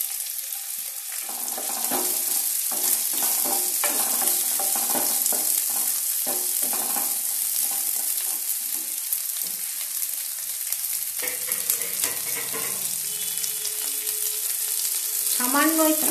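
Cubed onion stir-fries in hot oil for chicken Manchurian, a steady loud sizzle with repeated scraping and stirring strokes of a utensil in the pan.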